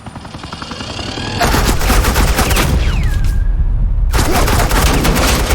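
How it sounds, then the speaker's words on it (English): Sustained automatic gunfire lays down suppressing fire in the video game Batman: The Enemy Within, a loud, rapid, dense rattle of shots that builds in and carries on with a brief drop partway through, with no voices over it. "Suppressing fire."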